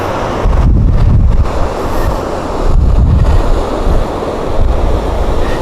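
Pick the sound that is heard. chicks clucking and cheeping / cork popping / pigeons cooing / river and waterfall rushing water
river and waterfall rushing water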